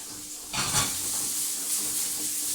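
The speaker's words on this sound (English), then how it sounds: "So we're going to leave those to fry off for just a minute." Mushrooms frying in hot coconut oil, a bright steady sizzle that flares sharply as they go into the pan and then settles into a continuous hiss.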